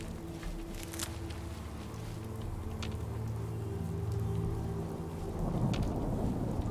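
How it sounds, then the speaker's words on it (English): In Fallout 4, a rad storm brings steady rain pattering on surfaces, with low rolling thunder rumbling underneath and swelling toward the end, moderately quiet throughout. "right before the rad storm started"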